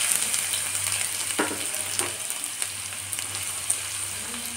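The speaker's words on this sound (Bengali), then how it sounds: "তেলটা আমার হয়ে গেছে, এতে আমি কুচনো পেঁয়াজগুলো দিয়ে দেব।" Chopped onions sizzle and crackle in hot oil already seasoned with dried red chillies for a tomato chicken dish, a steady close frying hiss with occasional stirring clicks and pops.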